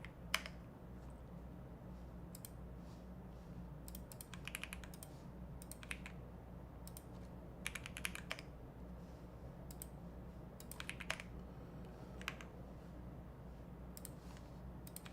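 Quick bursts of typing on a computer keyboard during a TypeRacer race, clicky keystrokes coming in uneven clusters with short pauses between them, close and fairly quiet.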